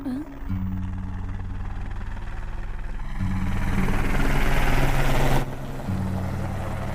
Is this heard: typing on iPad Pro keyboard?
no